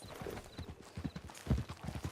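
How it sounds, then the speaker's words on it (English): Horse hooves clip-clop at a steady walking rhythm in Red Dead Redemption 2, close and fairly soft, a run of evenly spaced thuds with no talk over them. "Get on your horse, John."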